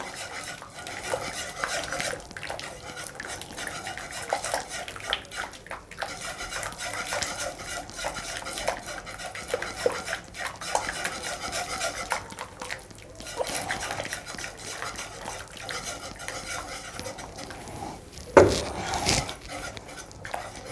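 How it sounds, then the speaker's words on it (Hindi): A spoon stirs chicken corn soup quickly in a pot, making continuous scraping and clinking against the metal, with a sharper clatter near the end. "थोड़ा थोड़ा करके डालना है और बहुत जल्दी चमचा चलाना है आपने।"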